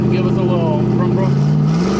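Twin-turbo Mazda RX7 engine revving briefly, a close, loud rotary growl whose pitch climbs toward the end.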